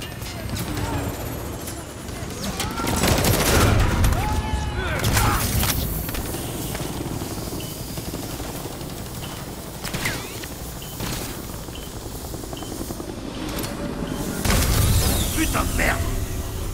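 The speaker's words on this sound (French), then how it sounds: "Bravo, ouvrez le feu sur cet hélico!" Sustained gunfire aimed at a helicopter in the Call of Duty MWIII video game, dense bursts with loud peaks near the start and end, under shouted game dialogue and mission chatter.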